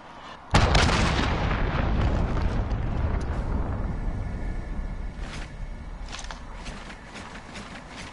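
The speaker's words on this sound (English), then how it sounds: "Allied cruise missile launched." An allied cruise missile strike in Modern Warfare Search and Destroy hits with a sudden loud, near explosion, followed by a long rumbling roar that slowly fades, with faint scattered game noises and clicks underneath.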